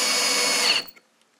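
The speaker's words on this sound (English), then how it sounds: "I'll drill a couple of clearance holes through the block" A power drill bores clearance holes through a wooden block, whining loud and steady at close range for under a second before spinning down abruptly into silence.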